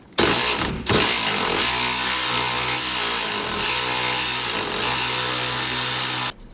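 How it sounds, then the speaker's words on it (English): A ratchet with an 18 mm deep socket works a crank pulley bolt loose on a C6 Corvette, a short sharp hit followed by a sustained loud mechanical whir close by. "now I'm gonna hold it from the other side and then hit it with the ratchet"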